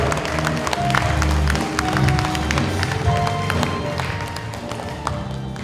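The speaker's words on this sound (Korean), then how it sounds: "응원의 박수, 큰 박수 부탁드리겠습니다" Audience applause at a lecture event for an elderly speaker, a steady wash of clapping from a crowd of listeners that swells and holds without fading, with some murmuring underneath.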